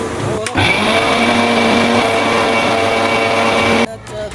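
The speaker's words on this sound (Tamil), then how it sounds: "இப்போ மிக்சியில் போட்டு அரைச்சி பவுட்ரு பண்ணி கொண்டு வந்து காட்டுறேன்" A kitchen mixer grinder whirs loudly and steadily as it grinds roasted nuts into powder, starting abruptly after a brief pause and running about three seconds before cutting off.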